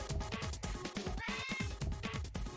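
A pet cat meows loudly, giving a string of close, drawn-out cries with rising and falling pitch in quick succession over a couple of seconds.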